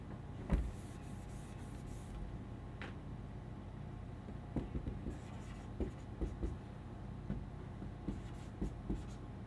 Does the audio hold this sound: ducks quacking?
no